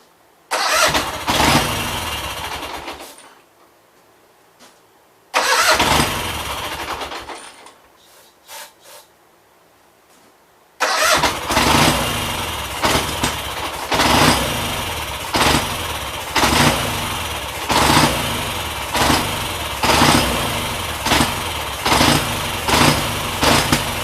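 The engine of a Gravely 8199 tractor cranks and catches briefly twice, cutting out each time, then starts on the third try and keeps running loud and close with a steady, slightly surging rhythm.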